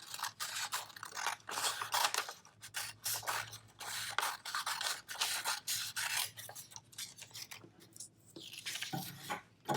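Scissors cut out a folded paper umbrella in an art lesson: steady, close, repeated snipping and paper rustling that keeps on rhythmically throughout, with no talk.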